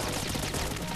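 Rapid pistol gunfire from Metal Gear Solid 2 fills the whole moment, a dense, loud run of overlapping shots with a busy game soundscape behind them and no talking.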